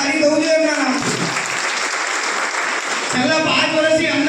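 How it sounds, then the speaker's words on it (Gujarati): A crowd at a community mass-wedding function claps for a donor, a dense burst of applause in the middle, with someone speaking loudly into a microphone before and after it. "જોરદાર તાળી દઉં જોઈએ એમના નામ"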